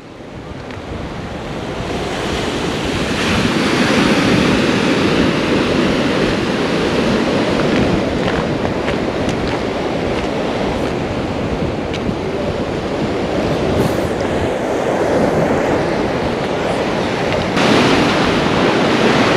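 Ocean waves surge continuously against the shore beside an old fort on São Tomé and Príncipe, a loud, roaring wash mixed with heavy wind buffeting the microphone, with no voices.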